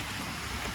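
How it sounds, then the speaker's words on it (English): Rain falling steadily in rural Jamaica, a dense, even hiss of drops on surfaces that stays constant and fairly loud throughout. "Rain."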